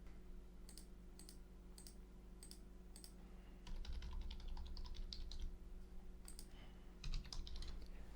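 Computer keyboard typing while dummy order details go into a PHP shopping cart order page: quick bursts of light key clicks, a few spaced taps then denser runs, close and quiet over a low steady hum.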